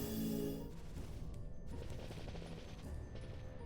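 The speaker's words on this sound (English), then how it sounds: "The kid set off an explosion, and he did it again." An in-game explosion from Final Fantasy XII sets off a dense, continuous crashing rumble that stays loud and sustained for several seconds, with no voices over it.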